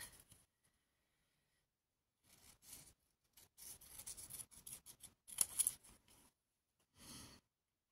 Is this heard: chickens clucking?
no